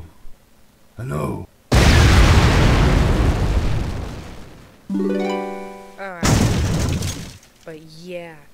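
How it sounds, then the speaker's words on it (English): A video game alien mothership explodes in a long, loud roaring blast that rumbles for several seconds, followed by a second burst, with a voice talking briefly between the blasts. "The alien mothership is exploding."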